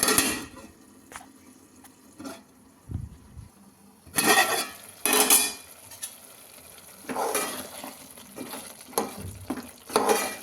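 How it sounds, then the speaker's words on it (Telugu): Brinjal pieces cooking in oil in a pan: a low sizzle broken by several louder bursts of stirring and scraping against the pan, close by. "ఇవి కొంచెం నూనెలో బాగా మగ్గనివ్వాలి"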